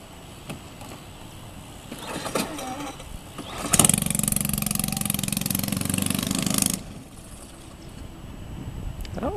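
A supermileage competition vehicle's small engine cranks on its starter in a parking lot, a loud steady whirring burst of about three seconds that cuts off abruptly, with quiet background before and after.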